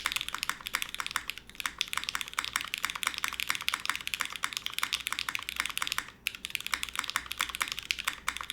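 Rapid continuous typing on a mechanical keyboard fitted with X-ray keycaps, dense thuddy keystrokes close up with a brief pause near the end and no talking.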